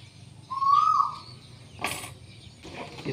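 Asian koel calling in Sulawesi, a single clear whistled note rising then falling, fairly near, followed by a couple of brief rustling bursts against a quiet background.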